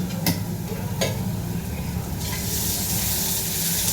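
Onion fries in hot oil with a dense, steady sizzle and hiss that swells louder partway through, punctuated early by two sharp clacks of a utensil.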